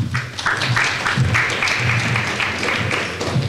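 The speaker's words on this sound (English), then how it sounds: "No clapping, no clapping." Audience applause at a student presentation competition, a short burst of clapping from a modest crowd, fairly close and uneven, with some voices mixed in.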